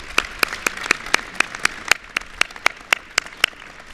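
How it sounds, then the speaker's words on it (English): Sparse, slow clapping at a First Lady's Joining Forces anniversary event, single sharp claps spaced evenly about every quarter second, close and distinct against a quiet room, with no talking. "we need to give her another round of applause."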